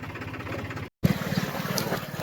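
A Solis tractor engine runs with a steady low throb, cutting out briefly in the middle and then resuming close by with a rougher pulse.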